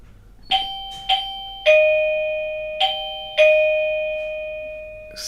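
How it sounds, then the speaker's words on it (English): Bell ringing in the background, five bright metallic strikes at uneven intervals, each ringing out and slowly decaying, clear and fairly close with no talking. "Excuse the bell there in the background"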